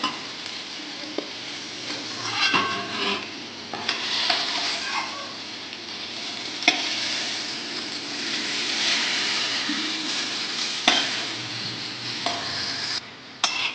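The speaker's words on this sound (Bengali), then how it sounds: "এবার আমার পটলটাও ভাজা হয়ে গেছে এবার আমি পটলটাকে আস্তে আস্তে তুলে নেব" Pointed gourd fries in a wok, giving a continuous close sizzle. Scraping stirs and occasional clinks of a utensil against the metal come and go throughout, with no talk.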